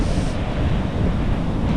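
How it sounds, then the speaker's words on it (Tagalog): Sea waves surge steadily in heavy rain at Bucana, a dense continuous roar of surf and rain with wind buffeting the microphone, loud and close throughout. "So, malakas pa rin ang ulan. Ang dagat."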